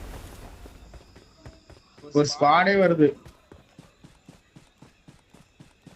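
A horse in the BGMI battle royale game gallops in a steady, quick clip-clop rhythm, moderately close, as a person speaks briefly over it.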